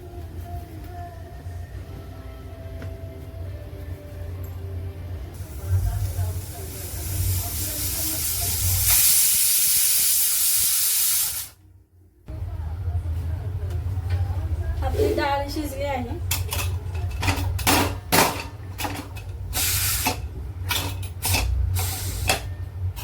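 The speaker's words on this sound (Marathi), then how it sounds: "आता आपण कुकरला चार पाच शिट्ट्या करून घेऊया" A pressure cooker with dal cooking on a home kitchen stove lets off loud hissing bursts of steam, rising to a sharp whistle, then breaking off and returning in pulsing blasts, with voices speaking now and then.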